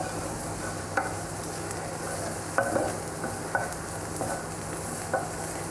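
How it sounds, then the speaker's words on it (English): Meat browning in a pan with no oil for a BBQ bacon cheeseburger pasta bake, a steady close sizzle with soft stirring and scraping taps at irregular intervals, no talking. "Just a light frying, and that looks just about right."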